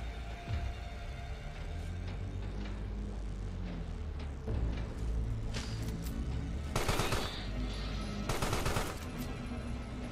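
Short bursts of gunfire in the video game Carrion, scattered shots growing into two loud, dense volleys near the end, heard over a low game ambience.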